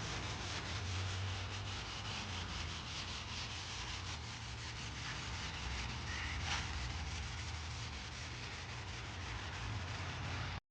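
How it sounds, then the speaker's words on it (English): Wet sanding a 1975 Chevy C10 tailgate by hand, a continuous close gritty rubbing hiss with a steady low scraping drone beneath it, holding evenly throughout without any voices. "we finally got finished wet sanding this thing"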